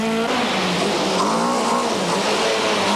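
A Renault rally car understeers and struggles for grip on the 1996 Bulldog Midland Rally, with loud, continuous engine roar and tyre scrabble close by.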